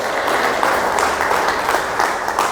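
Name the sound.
church congregation applause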